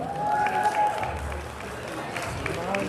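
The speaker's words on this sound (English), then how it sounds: "Please give him a round of applause" Audience at a Black Excellence Night panel applauds a panelist, a moderate wash of clapping with some crowd murmur and a voice speaking over it near the start.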